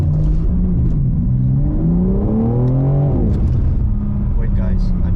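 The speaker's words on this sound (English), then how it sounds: "So let's do a launch control right now." A BMW M4 Competition's engine revs up and holds for a launch-control start, a loud, steady mechanical drone rising in pitch midway before easing back, with a voice talking over it throughout.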